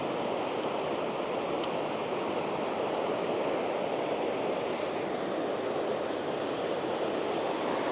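Stream water at Mount Rainier National Park runs through a small passage beneath a bridge, a steady, dense rushing wash that stays constant and close throughout with no voices.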